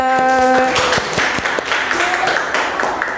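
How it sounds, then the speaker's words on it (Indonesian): Students in an Indonesian classroom break into brief, scattered clapping for a classmate, with voices heard just before and light claps trailing off. "tepuk tangan untuk Zahwa."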